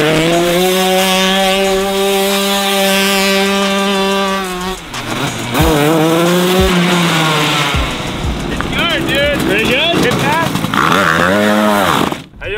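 A shifter kart's engine revs hard and rises in pitch as it pulls away and drives off, loud and close, with a high whine, gear changes and a few voices.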